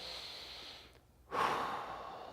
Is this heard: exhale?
yes